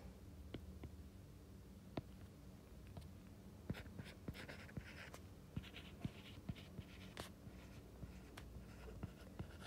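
Pen writing out math equations on paper, faint scratching strokes and sharp taps as letters and symbols are drawn, close and quiet in an otherwise still room.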